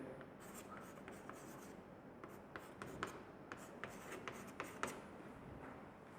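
Chalk or marker writing on a board in a chemistry class, a quiet run of short tapping strokes and squeaks over faint room noise, with no speech.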